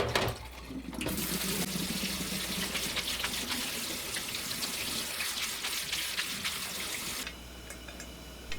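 Tap water runs hard into a sink over freshly boiled pasta to cool it, making a loud, steady, broad rush for several seconds between quieter moments at the start and end.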